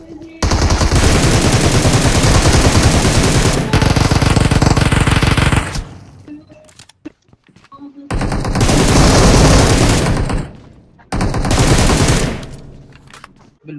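Video game gunfire from a Last Zone 2 vs 4 match: loud, rapid automatic bursts rattle in long sustained volleys, separated by short quiet gaps, with a player's voice briefly heard between bursts.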